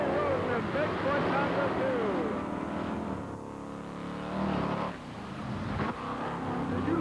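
The Bigfoot monster truck, driven by Debbie Roden at a 1989 Indianapolis event, revs hard and roars off at full throttle, a loud, rising engine drone that fades as it pulls away under an announcer's voice.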